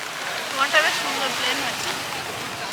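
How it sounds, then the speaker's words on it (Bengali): Rain falling at the beach in Digha makes a steady broadband wash mixed with the sea, while someone talks briefly over it nearby. "বৃষ্টি ভালোই আসছে জোরে এবার।"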